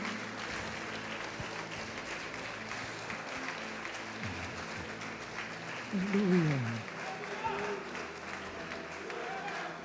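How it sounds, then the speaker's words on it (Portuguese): Church congregation clapping in a steady mid-level wash that carries on throughout, with voices and a brief raised vocal swell partway under the applause. "Pode aplaudir o Senhor Jesus e glorificar."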